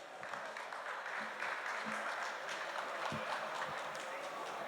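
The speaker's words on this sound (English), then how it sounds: "Give Jeremy Rubin a big clap, please." Audience applause at a conference talk on Bitcoin runes and inscriptions, a steady wash of clapping from a crowd lasting several seconds, with a few voices mixed in.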